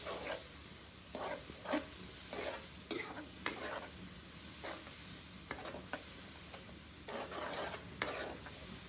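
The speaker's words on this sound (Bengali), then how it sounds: "পেঁয়াজটা ভাজা ভাজা থেকে থাক কাটতে গেছি দিয়ে দিলাম একটু ভাজা ভাজা হলুদ মরিচ জিরা" Onion with turmeric, chilli and cumin frying in a pan, a quiet steady sizzle broken by repeated soft stirring scrapes at irregular intervals throughout.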